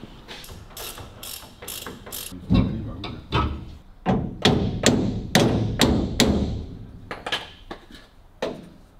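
Close, loud ratchet spanner bursts and metal knocks while loosening bolts to refit the rear wing on a 1934 Austin 10, with rapid clicking runs between heavier thumps over about nine seconds.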